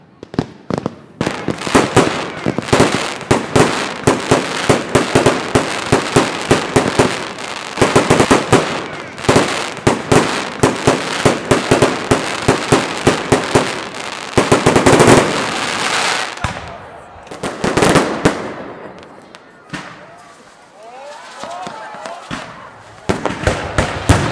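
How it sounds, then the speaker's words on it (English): A New Year's Eve fireworks display at an outdoor live event, with dense rapid crackling and popping bursts that run continuously and loudly for several seconds, then thin out to scattered bangs while voices talk nearby. "the fireworks display was just on"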